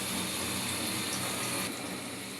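Beef liver, potato, onion and ginger frying in oil, a dense, steady hiss of sizzling throughout, close and fairly quiet, with no talk.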